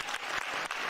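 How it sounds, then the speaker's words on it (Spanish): Steady applause from a crowd at a tribute event for a teachers' union section, continuous and fairly loud for the whole second with a few brief dips. "Aplauso al compañero Francisco Nicolás Bravo Herrera"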